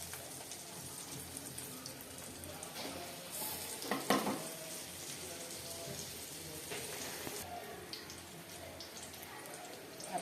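Farali batata vada frying in hot oil, a steady close bubbling sizzle with a sharp louder surge as a vada drops in, continuing as a dense crackle with faint handling sounds.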